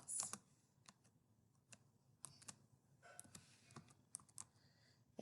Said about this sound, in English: So we want to go to where the criteria line is underneath the main character and type in Alex Cross.